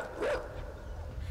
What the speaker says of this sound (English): you stupid dog, you're not even scary.